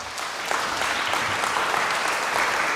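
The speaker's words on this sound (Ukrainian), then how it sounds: "ці оплески звучать, Іринко, тобі." Dense, steady applause fills a hall at a ceremony honoring a young girl among child heroes, a continuous wash of many hands clapping at even volume.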